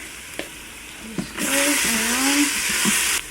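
Minced garlic hits the hot inner pot of an Instant Pot on sauté, giving a sudden sizzle that holds steady for about two seconds before cutting off, after a couple of light knocks.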